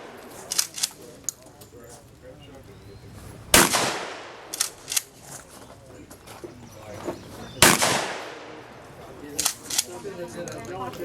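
Gunshots ring out at an outdoor multigun shooting match: two loud sharp reports stand out among scattered quieter shots and clicks, with people talking between them.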